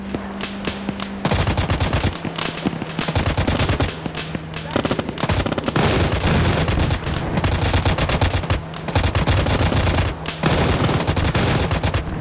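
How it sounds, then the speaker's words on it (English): Rapid bursts of MG42 machine-gun fire in a video game, loud and sustained, broken by short pauses, with gunfire and game effects dense throughout. "And then the MG42 guy fires too."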